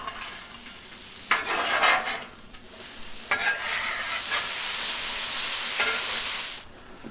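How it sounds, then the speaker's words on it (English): Fried rice with peas being stirred on a Blackstone griddle: a steady, close sizzle with scraping spatula strokes that come and go, then fade out near the end. "we're going to go ahead and stir this around for a few minutes"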